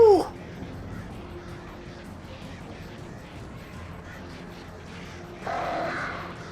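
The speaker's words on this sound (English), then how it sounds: "Ah, there's too many birds." Flock of crows cawing in the video game Alan Wake, a steady chattering mass of calls with a harsher, louder burst near the end.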